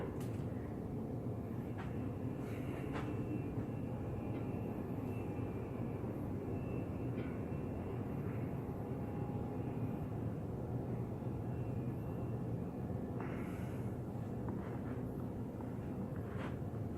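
An Embraer 145 regional jet takes off at a distance, its faint, steady engine roar holding level for a long stretch with no talk over it.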